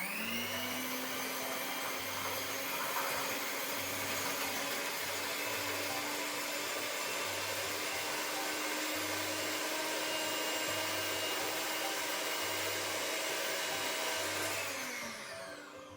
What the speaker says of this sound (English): now I'm going to beat the egg whites, and I'm going to beat them very stiffly